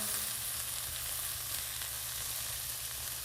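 Onions cook in a hot skillet, giving a soft, even, steady sizzle throughout with no speech over it.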